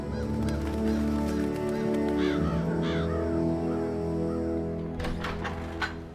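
Crows caw loudly in a steady, overlapping chorus close by, with harsh honking calls and no talk.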